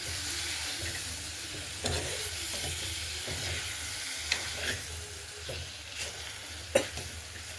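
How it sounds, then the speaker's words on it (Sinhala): Drumstick leaves stirred into a simmering prawn curry in a pan, a continuous frying sizzle and hiss with occasional scraping knocks of the spoon against the pan. "මුරුංගා කොළ ඔන්න දැන් ඒක සාමාන්‍ය ප්‍රමාණයට කලවම් කරලා"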